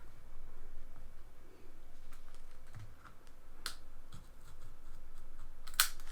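Scissors cut a strip of foiled washi tape on a planner page: a few crisp snips and small clicks, up close, over faint paper rustling.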